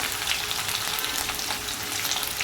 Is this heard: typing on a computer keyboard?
no